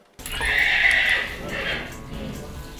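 A mare whinnies loudly and close by in a veterinary setting, one long high neigh that fades into a softer trailing call, with faint stable noise underneath.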